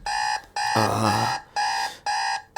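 An alarm clock buzzes in four repeated electronic bursts separated by short gaps, loud and close, with a brief different tonal chirp mixed in between the first two buzzes.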